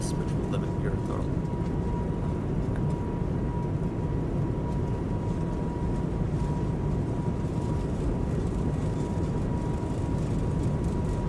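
Airbus A220 engines at takeoff thrust in Microsoft Flight Simulator give a loud, steady broadband roar with a sustained tone throughout, and voices talk over it.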